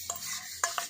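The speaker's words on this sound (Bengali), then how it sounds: "সমস্ত কিছু আমি একসঙ্গে খুব ভালো করে মিশিয়ে নিচ্ছি।" Spoon clinking and scraping through paneer tikka marinade with spices in a bowl, a few quick close taps in under a second, fairly quiet, no voices.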